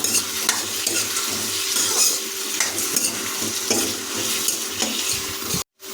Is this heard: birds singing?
no